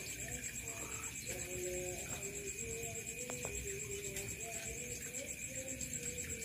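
A zebra dove coos softly in an aviary, its low, repeated coos faint beneath constant insect chirring and background ambience, with some quiet talk.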